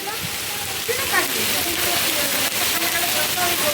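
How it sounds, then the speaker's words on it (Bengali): Dense, constant roar of heavy rain pouring down nearby at a temple in Bolpur, with faint voices mixed underneath. "সাংঘাতিক বৃষ্টি হচ্ছে বিশাল জোরে বৃষ্টি"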